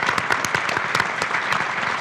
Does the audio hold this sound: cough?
no